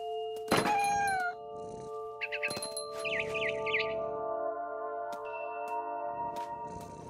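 A cat meows in the video game What Remains of Edith Finch, several short tonal mews and chirps in a row over a sustained musical drone, with a few clinks and no voices.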